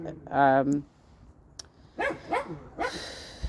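A female dog gives one loud, close bark with a whining edge, followed by people talking.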